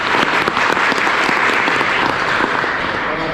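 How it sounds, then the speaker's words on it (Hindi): An audience claps loudly and steadily at a school gathering, dense continuous applause close up that holds at an even level throughout. "एक बार जोरदार तालियों से"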